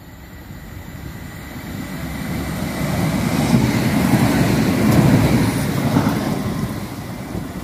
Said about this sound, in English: There goes 3012.